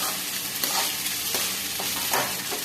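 Vegetable samosa filling of potato and peas roasts in a pan under a constant sizzle, with a few scraping strokes of a spoon stirring through it.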